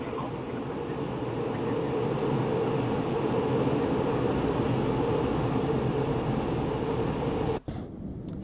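Dosto double-deck train running on the Salzburg–Rosenheim line in a train simulator game, giving a steady, close rolling rumble that holds throughout and cuts out briefly near the end.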